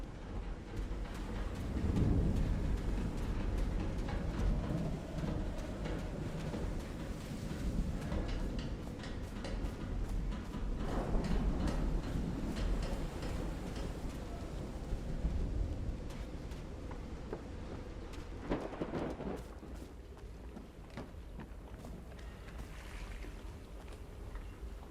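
A thunderstorm in the Call of the Sea video game rolls on as a steady low rumble with a dense wash of rain-like noise and occasional heavier swells, loud and continuous with no voices.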